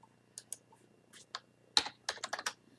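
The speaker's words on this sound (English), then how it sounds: "Ah, that's your keyboard." A computer keyboard clicks during a chess stream, its keys tapped in a sparse, irregular run of light clacks that ends in a quicker burst, faint and close in an otherwise quiet room.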